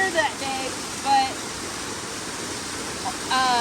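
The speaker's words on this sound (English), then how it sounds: "down here where the waterfall is" A waterfall pours in a steady, full rush of water that fills the scene without a break, with a few faint voice fragments over it.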